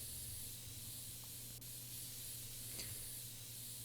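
Compressed air sprayed to blow dust out of a PC in a video game, a steady, loud broadband hiss running throughout with no pause.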